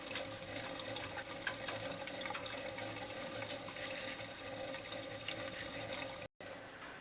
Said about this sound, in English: You can hear the water coming through